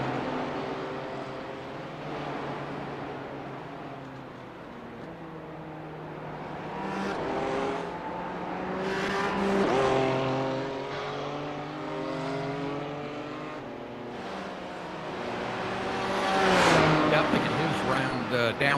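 Porsche and McLaren race cars lapping a circuit, engines rising and falling through gear changes and revs, loud and continuous with a commentator talking over the top.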